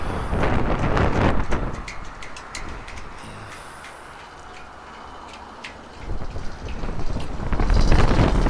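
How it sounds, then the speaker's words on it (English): Strong wind gusts buffeting a phone microphone at Vets Park in Norwalk, Connecticut, beside Long Island Sound, loud rumbling at the start, easing to a softer rush, then surging again near the end. "So windy that almost the phone blew off my hand."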